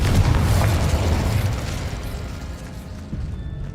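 Loud booming explosive burst from the Confringo spell in the Hogwarts Legacy video game, set in a tomb, a dense rumbling blast that decays over a few seconds with no voice over it.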